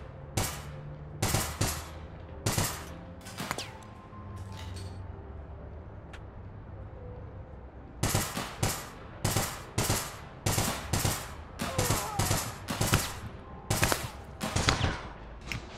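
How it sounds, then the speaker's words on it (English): Gunfire in the online shooter APB Reloaded: a few scattered single shots, a quieter pause, then rapid repeated bursts of automatic fire, close and loud. "I'm shooting a wall and yet it's shooting me through it."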